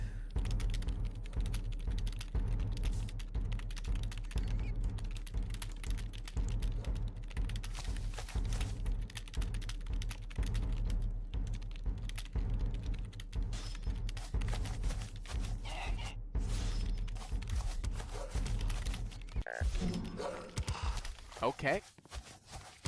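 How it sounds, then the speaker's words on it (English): Typing on a computer keyboard makes a rapid, steady run of clicky keystrokes. It goes on for most of the stretch under a low background hum, then breaks off near the end as people start talking. "You guys want to hear some typing ASMR?"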